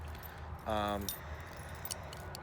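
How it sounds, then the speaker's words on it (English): A bunch of keys with a house key and a truck key jangles close by in one short burst of bright metallic clinking. Quiet talk follows. "Yeah, so my keys, they usually go in my left-hand pocket."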